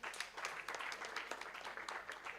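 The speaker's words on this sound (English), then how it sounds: "Another round of applause for the entire team." Audience applause at an election integrity summit in Africa after an opening session, a steady, fairly faint wash of many hands clapping heard from a distance, continuous throughout.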